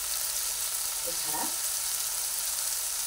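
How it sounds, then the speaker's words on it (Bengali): Spices and tomato fry together in a pan, a dense, steady hiss of sizzling oil filling the whole stretch, close and even, with a brief spoken word partway through. "টমেটোটা দিয়ে একসঙ্গে ভালো করে পুরো মশলাটাই ভেজে দিচ্ছি।"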